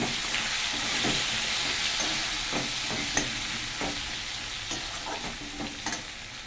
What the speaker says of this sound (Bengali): দিয়ে দিচ্ছি 2টো পেঁয়াজ, কারণ মাছ অনেক তো। পেঁয়াজগুলো ভেজে নেব।